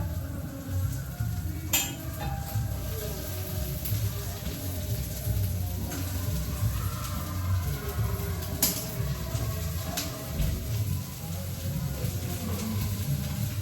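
Onions fry in oil in a pan with a continuous close sizzle that holds steady throughout, and a few sharp utensil clinks and taps come through at scattered moments.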